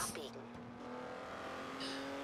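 A car driving in the racing game Forza Horizon 4, its engine droning steadily at moderate volume with a brief tire or skid noise near the start, while a person talks over it.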